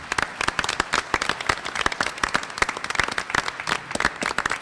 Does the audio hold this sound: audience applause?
yes